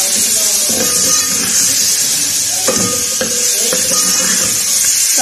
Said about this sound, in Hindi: इसको भी मैं अच्छी तरह से फ्राई कर लूँगी